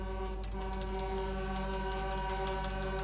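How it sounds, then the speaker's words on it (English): A loud, sustained car horn blares steadily in a driving video game, its steady harmonic drone running without a break through the whole stretch. "Honking to the horn, baby!"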